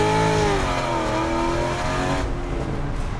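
A 2006 Chevrolet Corvette engine revs hard in third gear, a loud continuous roar with rising harmonics that climb steadily, then ease off as the throttle backs down near the end.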